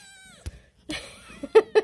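A day-old kitten meows several times in short, close bursts, the last two calls louder and higher, with quiet pauses between.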